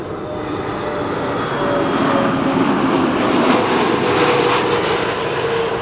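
A large airliner on final approach roars loud and steady as a broad engine rumble, swelling slightly as it passes close overhead.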